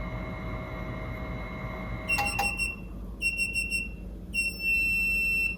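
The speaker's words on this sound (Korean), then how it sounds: "삐삐삐삐 이렇게 알람이 울립니다." A Purity Plus baby bottle sterilizer gives off sharp, loud electronic beeps in short repeated bursts after a low steady hum, close and clear with no talking.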